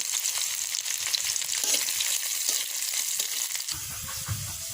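Onion and garlic fry in oil in a pan for a black cumin mash, giving a steady, close hiss and sizzle with a few stirring scrapes, and the sound grows heavier near the end.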